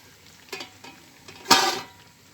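Chopped tomatoes for menemen are sautéed and stirred in a pan, giving a couple of soft scrapes followed by a louder sizzling stir, close and brief.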